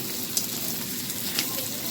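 Onions and tempering spices frying in a pan, a constant close sizzle with small pops and crackles.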